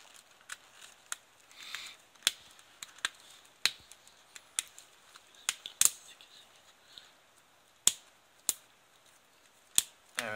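A Quatro Mobile M1453 dual-SIM phone's back cover is pressed into place with a scatter of faint, sharp plastic clicks and snaps, irregularly spaced, close up and quiet.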